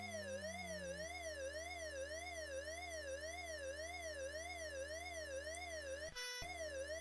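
Electronic siren from the Chase HQ video game on the Commodore 64, a synthetic warbling tone rising and falling in a fast, even cycle, loud and continuous with a brief glitch near the end.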